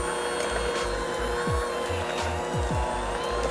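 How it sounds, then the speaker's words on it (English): An electric hand mixer whirs through stuffed French toast batter with vanilla extract, a steady motor hum pulsing in short repeated bursts as the beaters work the bowl, close and fairly loud. "Now our mixer."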